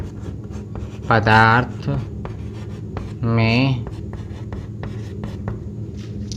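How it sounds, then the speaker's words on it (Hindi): Chalk or marker scratching on a classroom board during a science lesson, with short strokes and taps between stretches of a teacher speaking. "तो लिखते हैं"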